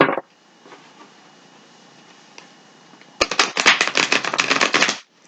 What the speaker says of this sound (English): We're going to give the card a couple shuffles.